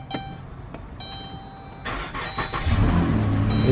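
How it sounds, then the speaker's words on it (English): A repossessed minivan's engine is cranked with the key, a few clicks giving way to the starter and then the engine catching and settling into a close, steady idle. "so let's see if it will start on its own"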